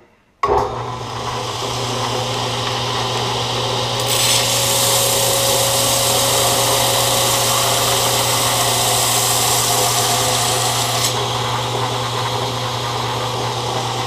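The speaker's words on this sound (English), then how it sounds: "do the finish grind on the blade" A grinder runs the finish grind on a hand-made knife blade with a hamon, starting abruptly and then droning steadily with a motor hum, a bright grinding hiss swelling from about four to eleven seconds, close and loud, no talking.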